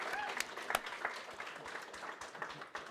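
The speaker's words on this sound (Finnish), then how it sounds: "Annetaan vielä suuret aplodit meidän live-jengin opiskelijoille täällä" Audience applause for students at a live event, a dense patter of clapping lasting the whole stretch with a few sharper claps standing out, fairly quiet and distant.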